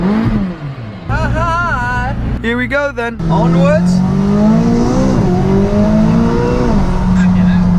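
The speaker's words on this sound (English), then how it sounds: "Does sound good, this car. Listen to this." McLaren sports car with a 570 horsepower engine revving and accelerating hard from inside the cabin, a loud sustained drone climbing through the gears, with someone talking over it at the start.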